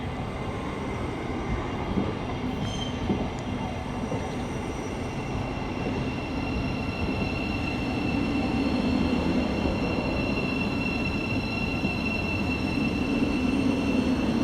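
A long, fast London passenger train runs with a steady, close rumbling roar and wheel noise that swells slightly toward the end, with no voices.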